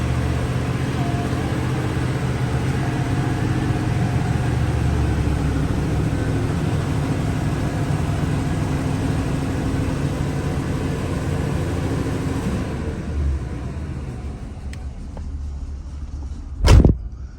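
A 1977 Pontiac Bonneville engine idles with a low, steady rumble while warming up, then cuts out and falls quiet, followed by a single sharp knock near the end.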